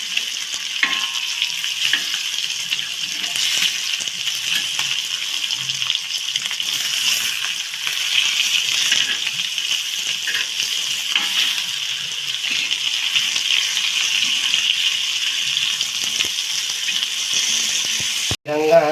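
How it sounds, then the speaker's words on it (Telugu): Pomfret fish deep frying in hot oil, a steady dense bright sizzle that holds at an even, close loudness throughout, with a brief knock at the very end. "ఇటు సైడ్ కూడా ఒక 5 నిమిషాల పాటు మంచిగా డీప్ ఫ్రై చేసుకోవాలి"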